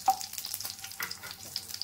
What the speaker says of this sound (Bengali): এই কালো জিরে আর কাঁচা লঙ্কাটা একটু ভাজা ভাজা করে নেব।